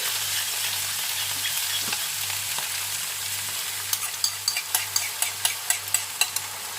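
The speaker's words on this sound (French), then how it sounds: "Maintenant, j'ajoute ma sauce." Sauce goes into a pan of sizzling pork noodles and is stirred through. A loud, continuous frying hiss plays up close, with a run of sharp, regular spatula scrapes and taps in the second half and no talk.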